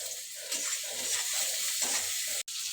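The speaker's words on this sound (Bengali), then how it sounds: "দেখুন আমার আলু ফ্রাই করা হয়ে গেছে।" Sliced potatoes frying in a pan with onion and turmeric, giving a steady close sizzle with stirring scrapes, no talk, and a brief dropout near the end.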